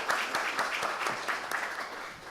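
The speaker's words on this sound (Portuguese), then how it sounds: "uma salva de palmas" Applause fills a conference hall, a steady patter of many hands clapping with individual claps standing out, loud and sustained with no voices over it.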